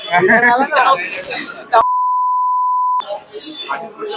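A single steady censor beep, a pure tone held for about a second, cuts cleanly into lively speech, with talking before and after it.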